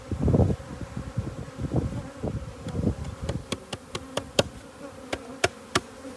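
Honey bees buzz around open hives while two colonies are being combined. A low hum is strongest at the start and then fades. Sharp clicks and taps of hive equipment being handled follow.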